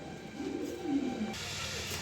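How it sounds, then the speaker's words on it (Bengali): Racer pigeons, a checky male and red chequer female, give soft low cooing that swells in the middle, with a faint hiss of background noise. "এখানে আরও এক পেয়ার রেসার কবুতর আছে।"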